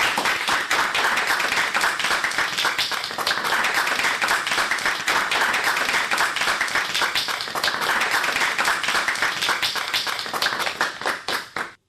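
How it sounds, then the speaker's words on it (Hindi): Children applauding after a radio play at an Army Public School programme, loud sustained clapping from a crowd, steady and dense for about eleven seconds before stopping abruptly. "फिर से एक बार जोरदार ताली बजाइए"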